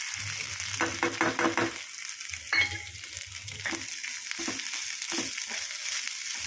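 Grated coconut fries in coconut oil in a kadai, giving a steady soft sizzle with a few scraping stirs near the start, close and moderately quiet with no talk.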